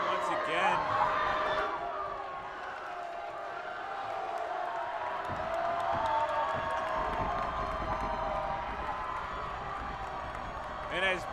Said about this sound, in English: Some people trying to cheer him on